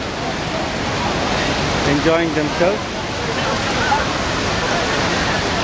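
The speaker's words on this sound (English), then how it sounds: "We are in Bhara Chukki Waterfalls." Steady broadband roar of the Bhara Chukki Waterfalls, a series of seven falls crowded with visitors, fills the whole scene while people chatter and call out over it.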